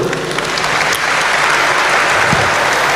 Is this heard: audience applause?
yes